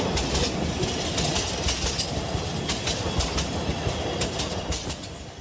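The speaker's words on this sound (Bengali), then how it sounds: "প্রায় 4টে নাগাদ ট্রেন স্টেশনে আসলো" A cartoon train pulls into a station with a rolling clickety-clack of wheels on rails, steady and moderately loud, with no voices.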